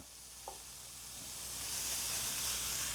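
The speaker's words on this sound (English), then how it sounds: "just fry your mince up so you get it all brown" Beef mince sizzles in a frying pan, a steady broadband hiss that builds gradually, with one small clink near the start.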